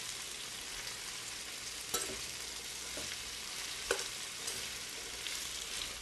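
Blanched green beans sauté with onions and peppers in a pan, giving a steady close sizzle with a couple of sharp stirring scrapes and no talking.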